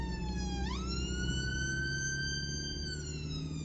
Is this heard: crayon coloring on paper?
no